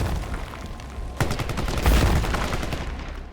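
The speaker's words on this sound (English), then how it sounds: "The shooting in this game is pretty fun" Gunfire in the video game Shatterline breaks out as a sudden burst of rapid shots, followed by heavier, booming fire that swells and then fades, without any speech.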